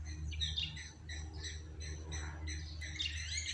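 Faint, scattered alarm squawks and chirps of a blacksmith lapwing sound from a distance over a steady low rumble, repeating irregularly in the background.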